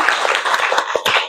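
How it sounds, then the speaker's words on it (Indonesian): A classroom group claps together in a short, dense burst of overlapping hand claps, close and fairly loud. "Sekali tepuk tangan dong untuk semuanya."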